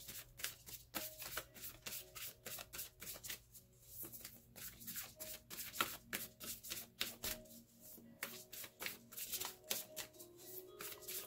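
Tarot cards being shuffled by hand, a steady run of quick riffling flutters and soft taps, close and quiet, no talking.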